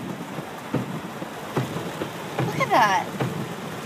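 Heavy rain pours during street flooding, a dense continuous hiss with a few dull knocks, while a person speaks briefly near the end.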